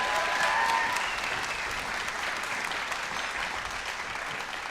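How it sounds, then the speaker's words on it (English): Applause from a concert audience thanking a bus driver, steady and dense throughout, with a brief whistle or cheer near the start before the clapping settles into an even roar. "Thunderous applause."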